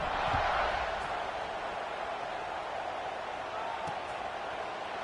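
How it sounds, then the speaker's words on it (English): Stadium crowd in a college football video game, Washington State Cougars at Oregon Ducks, a steady loud buzzing roar of fans that holds evenly throughout, with a few faint thumps underneath. "this crowd is buzzing after that last score"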